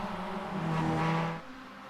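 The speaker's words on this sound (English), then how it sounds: "The car doesn't sound too good." Race car engine in a sim racing game, a brief whirring rev that swells and then drops away, moderately loud with no talk.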